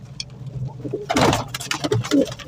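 Pigeons cooing at the Shahdara pigeon market in Lahore, soft repeated coos and bird calls close by over a busy market background, with a louder burst of activity midway.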